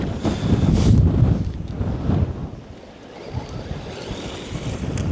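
Strong wind buffets the microphone outdoors on a cold day during a Traxxas Mini Maxx RC truck run, roaring loudly in low gusts that ease briefly midway and then build again, with no voices.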